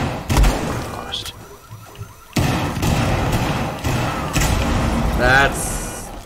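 A car alarm in the tactical shooter Rainbow Six Siege goes off amid gunfire thuds and impacts, its rising electronic whoop swelling near the end over busy combat noise.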